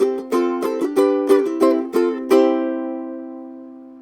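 A ukulele strums the ending tag of a song, with about eight quick, bright strums and a final chord left ringing and fading.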